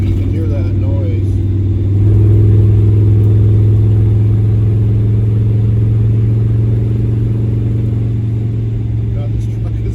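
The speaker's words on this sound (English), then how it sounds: "Belt or vacuum leak, you can hear that noise." A 1975 Jeep Cherokee Chief's engine drones steadily with a constant whine from a belt or vacuum leak running underneath, close and loud, holding for the whole stretch with a slight rise early on.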